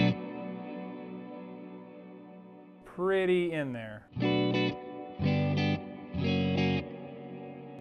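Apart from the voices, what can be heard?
guitar through Wampler Ethereal delay reverb pedal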